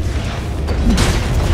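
Dota 2 barracks collapsing in-game, a deep rumbling boom with a dense crumbling burst that swells midway and holds loud to the end, heard alone.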